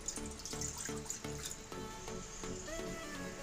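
One cup of water poured into a kadai while a sweet snack is prepared, a short steady splashing and trickling lasting a few seconds, close and moderately loud.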